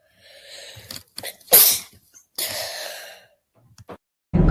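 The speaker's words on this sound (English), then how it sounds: "I'm gonna sneeze." A woman with a cold sneezes close and loud, with a sharp burst in the middle after an audible intake of breath, followed by a breathy exhale and brief quiet.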